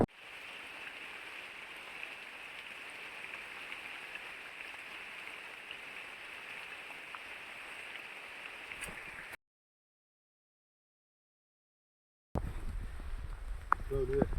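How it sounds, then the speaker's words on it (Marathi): Steady, hissing downpour of rain, constant and fairly close, cutting off abruptly into silence before a few seconds of rumbling noise return. "पावसाचा बंद नाही मोबाईल भिजला आणि आम्ही पूर्णपणे भिजलो"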